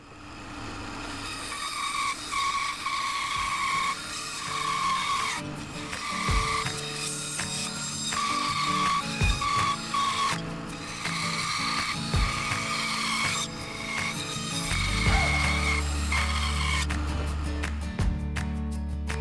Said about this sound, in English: the corners of the blank can be removed on the bandsaw